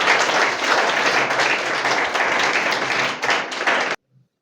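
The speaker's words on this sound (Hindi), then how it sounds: "एक बार सारे तालियां बजा दो अनीता के लिए" A village gathering claps for Anita, a young woman selected for the Chandigarh Police, with loud, dense, sustained applause from many people for about four seconds before it cuts off abruptly into silence.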